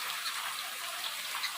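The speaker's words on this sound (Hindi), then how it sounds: "ये देखिए कितना तेज़ बारिश हो रहा है" Heavy rain falls under dark skies beside a swollen river, a steady dense hiss of drops with small splashes, fairly close and continuous, no voices.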